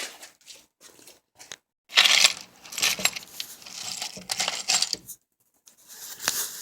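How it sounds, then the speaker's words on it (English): Metal screws jingle and clatter as a hand rummages through an assortment, with irregular bursts of clinking and rattling up close, separated by short quiet pauses. "Let's see what I got over here for screws."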